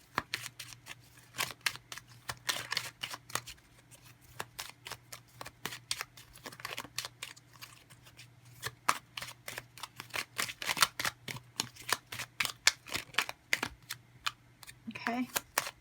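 A deck of oracle cards is shuffled with a rapid series of crisp, close snapping and riffling clicks, repeated in uneven bursts throughout.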